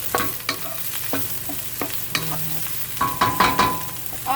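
Eggplant stir-frying in olive oil, a soft sizzle under repeated sharp scraping and clatter of a utensil stirring the pan at an irregular pace.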